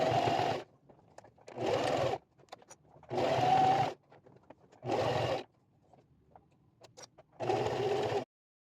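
A sewing machine stitches across padded laptop bag handles in five distinct bursts of fast, close mechanical whirring, separated by short quiet pauses.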